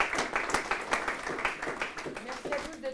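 Students applaud after a master class at a school, scattered rhythmic clapping at moderate distance, fairly faint, with a voice briefly heard near the end.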